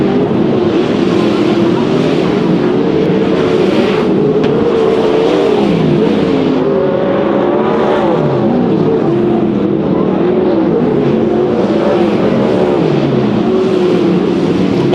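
410 sprint cars racing on the dirt oval at Silver Dollar Speedway, a loud continuous roar of several engines with rising and falling pitch as the pack passes, steady and close throughout.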